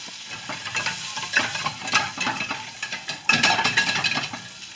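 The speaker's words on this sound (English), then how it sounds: "I am going to be placing a few things of butter into the pan." Butter melting and sizzling in a pan over medium-high heat, a crackling fry with scattered clinks and scrapes of utensils against the pan, close and moderately loud, no voices.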